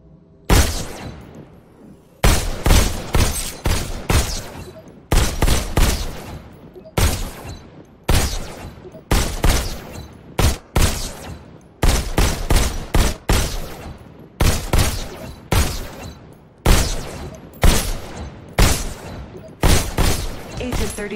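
Pistol gunfire in the VR shooter game Robo Recall: loud sharp shots in rapid volleys and short bursts, repeated many times with brief pauses between groups, close and dominant.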